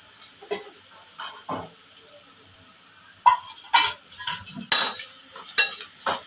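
Curry leaves frying in hot oil for Andhra-style chicken 65, with a low sizzle under several sharp scraping stirs that grow louder and more frequent toward the end.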